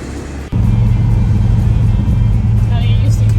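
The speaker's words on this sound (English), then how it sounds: "I'm driving a 69 Dodge Charger" A 1969 Dodge Charger R/T SE with drum brakes drives on the road, its engine rumbling loud and steady after a brief dip, with a voice over the drone.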